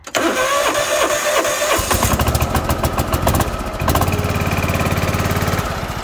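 A John Deere X324 lawn tractor engine cranks briefly, then catches and settles into a steady, loud, close idle with no talking.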